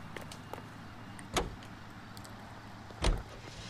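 Cop car in the video game L.A. Noire: two solid door thumps about two seconds apart over a low, steady engine idle, with small clicks before the first slam.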